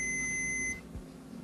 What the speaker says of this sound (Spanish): Primeramente comprobamos que el zumbador efectivamente funciona.